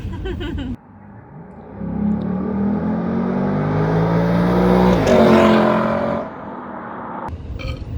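A Lexus LC500 V8 accelerates hard from inside the cabin, its engine note climbing in a loud rising drone, dipping briefly at a quick gear shift, then easing off as it settles.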